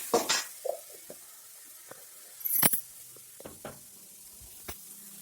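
Beetroot and tomato sautéing in a pan, heard as a few sparse, quiet scrapes and clicks of a stirring utensil over a faint low sizzle, with a louder rustling burst midway.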